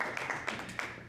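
Audience applause at a book talk on healing from childhood trauma, a brief burst of separate claps with distinct sharp hits over a light crowd wash.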